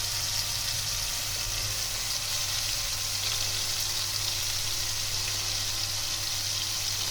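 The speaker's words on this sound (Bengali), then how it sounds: "তেল গরম হয়ে গেছে। এবার আমি এই পটলের শাঁসটা দিয়ে দিলাম।" Pointed gourd pulp and a ground paste of coconut, mustard, poppy seed and green chilli fry in hot oil, giving a steady, even hiss that holds close and unbroken throughout without any talk.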